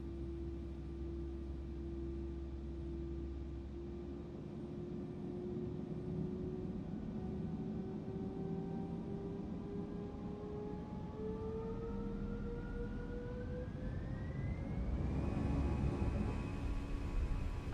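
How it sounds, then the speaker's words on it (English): Airliner jet engines in Microsoft Flight Simulator 2024 hum and whine steadily, the tone rising gradually as thrust builds, then swelling louder toward the end with a broader roar. "Ready for some engine noise?"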